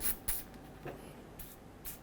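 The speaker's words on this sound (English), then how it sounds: "I'm going to spray that with some penetrant" Several short hissing bursts of penetrating oil aerosol sprayed onto a bolt area on a 2005–2014 Ford Mustang headlight housing, three or four quick puffs spaced apart against a quiet background.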